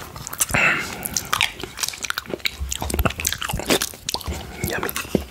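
Close-up ASMR eating of cherry yoghurt: wet smacking, soft bites and squishy mouth sounds in irregular bursts, near and intimate, with no speech.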